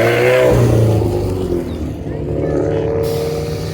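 McLaren and Lotus sports cars pull into an airport car meet, their engines rumbling loudly and close by with a steady revving drone, while people talk over the noise.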